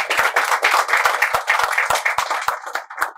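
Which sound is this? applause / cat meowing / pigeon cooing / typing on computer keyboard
applause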